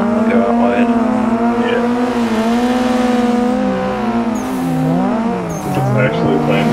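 Revving car engine in the Assetto Corsa racing simulator during a tandem drift session on steering wheels, a steady droning note that rises and wavers as the car slides, with faint tire squeal, loud and continuous throughout.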